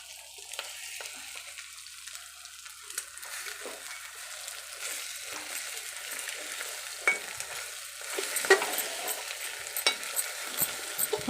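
A spoon stirring egg curry as it fries and sizzles in a pan, with irregular scraping strokes over a steady sizzle that grows busier and louder toward the end, and no talking.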